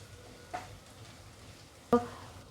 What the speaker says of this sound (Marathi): आपण छान या तेलामध्ये परतवून घेऊया